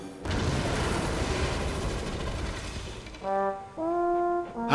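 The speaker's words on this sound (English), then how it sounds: "The trucks had run into Mavis, who was waiting on the track." Loud crash of toy trucks slamming into a toy train engine on a track, a sustained booming rumble for about three seconds, followed by two steady whistle-like tones.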